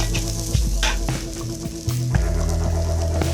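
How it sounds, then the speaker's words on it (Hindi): Carrots and beans sizzle and fry in a hot pan for chicken noodles, a loud, close crackle with scraping and stirring knocks breaking the steady hiss. "कैरेट और बीन्स उसमें है, उसको मिला के हम फ्राई करेंगे"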